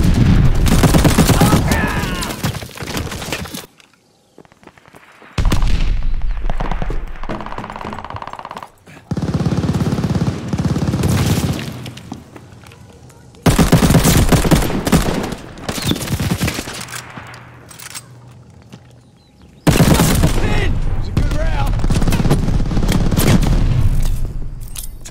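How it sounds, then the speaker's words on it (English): Gunfire and a stun grenade in the shooter game Call of Duty Vanguard, team deathmatch with a G-43 rifle: dense loud bursts of automatic fire in several long volleys, broken by short quiet gaps, with booming blasts and faint game voices. "Tossing stun grenade."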